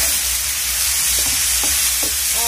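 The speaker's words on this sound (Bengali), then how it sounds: "ডালটা সবজি সাথে আমি মিক্স করে নিচ্ছি।" Red lentils being stirred into vegetables in a pot for Bengali-style khichuri give a soft, steady sizzle with a few faint scraping stirs, close up and alone.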